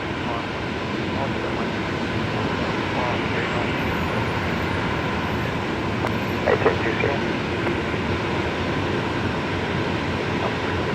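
Heavy jet aircraft landing at Brisbane Airport, a loud continuous broadband roar that holds steady throughout with a brief bump partway through.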